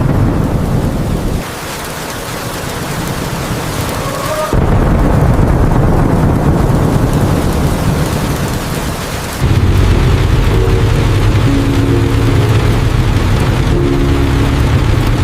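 Thunder and heavy rain fill a storm with a loud, continuous roar. Deep rumbles swell and shift in several abrupt sections, and no voices are heard.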